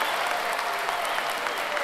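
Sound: audience applause welcoming the orchestra

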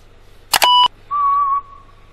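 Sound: whistling worm sound in Dora the Explorer video game

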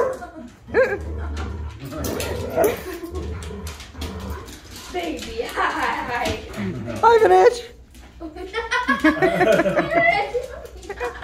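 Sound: dogs playing and whimpering

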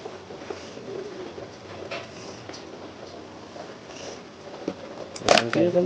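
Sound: pigeons cooing

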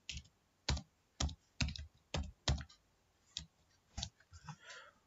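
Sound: typing Java code on a computer keyboard

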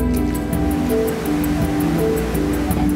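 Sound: flowing water of the Sangkuriang river in Sentul

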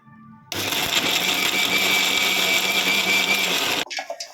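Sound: mixer grinder grinding soaked dal with salt

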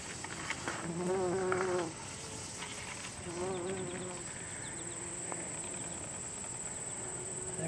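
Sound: bees buzzing around blooming partridge pea flowers

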